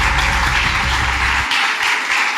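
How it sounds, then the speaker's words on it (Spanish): Church congregation giving a dense, loud round of applause during a Spanish-language Thursday service, steady clapping throughout with low rumble fading partway. "dale un aplauso al Señor"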